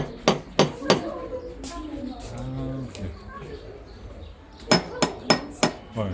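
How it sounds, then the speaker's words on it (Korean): Metal door knockers on a door in Tunisia, the left and right ones made to sound different, strike in sharp metallic knocks: three at the start and four near the end, with talk in between. "왼쪽 오른쪽 소리가 다른 문고리, 방문한 남녀를 구분하는 용도로 쓰입니다"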